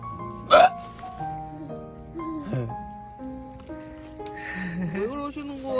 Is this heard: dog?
no